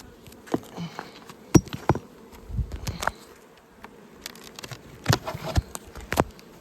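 Honeybees from a thriving double-deep mountain colony buzz around the hive in a dry, hot setting, a close droning hum with individual bees zipping past the microphone in loud, brief passes.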